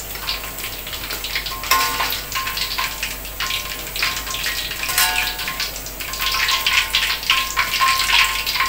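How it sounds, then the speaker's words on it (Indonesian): Fritters deep-frying in hot oil give off a continuous, close crackling sizzle for several seconds, with occasional louder pops and bubbling spurts. "Kita goreng terakhir ya teman-teman."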